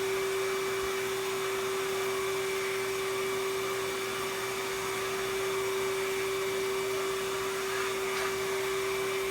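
A McKee's 37 4.0 HP dual action wet/dry shop vacuum with 20-inch extension wands and floor adapter runs steadily, a constant motor whine and airflow hum at moderate level, alone without speech.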